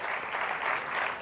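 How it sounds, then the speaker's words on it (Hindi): Steady, dense audience applause fills a hall at a 2021 organic farming expo as a farmers' organisation vice-president is welcomed. It is loud and unbroken throughout, with no pauses or voices standing out. "मैं चाहूँगा कि आप के लिए जोरदार तालियों से स्वागत करें"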